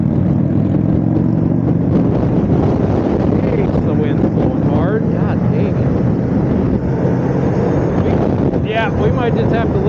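Strong wind roars and buffets the microphone continuously during a motorcycle ride at the 2024 Sturgis Rally, a steady loud rumble mixed with engine and road noise, with brief voice fragments under it.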